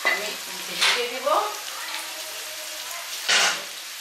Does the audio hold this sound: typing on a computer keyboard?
no